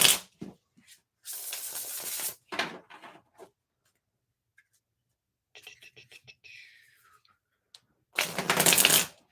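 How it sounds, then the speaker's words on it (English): Tarot cards from a Vampyre-themed deck are shuffled in several bursts of crisp, rapid riffling, each followed by a short pause. The bursts are loud and close, with a quieter stretch in the middle and no talking over them. "try to shuffle these again."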